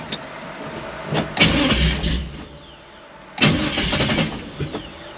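A 1964 Chevy II gasser with tunnel ram and dual quads cranks with two loud bursts of starter churning and engine catching, separated by a short pause, up close.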